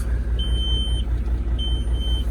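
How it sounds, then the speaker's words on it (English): Two long high-pitched electronic low air pressure alarm beeps sound about a second apart over the low rumble of a Kenworth truck engine idling after a cold start. "Sorry about the low air pressure alarm."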